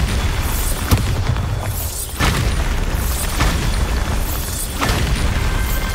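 In Hogwarts Legacy, Bombarda spells burst in repeated loud booms about every second or so during a Merlin trial, each blast sharp and close with rumbling between, no talk over them.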